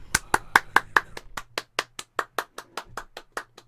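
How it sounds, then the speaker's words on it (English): Hand clapping in a steady rhythm of about eighteen sharp, distinct claps, slightly faster at first and then evenly spaced, moderately loud with no talk. "I'm gonna clap away from the mic."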